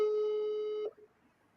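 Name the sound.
telephone ringing during a call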